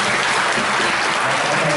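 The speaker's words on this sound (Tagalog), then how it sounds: "Isang palakpak pa po sa mga atis." Applause from a church congregation at a Friday worship service, steady and dense, filling the whole moment.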